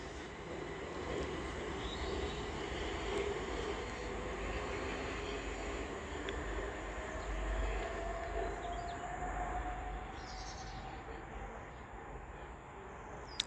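Electric multiple unit 375 301 pulls away from Snodland station, a low, steady rumble with a slowly rising motor whine heard from the platform at moderate distance.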